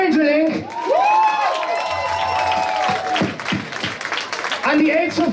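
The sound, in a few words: applause for a band at a concert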